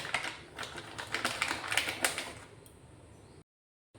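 Soya chunks chopped for a spicy momo filling, a quick run of close, crisp knife taps on a board that soften and then stop.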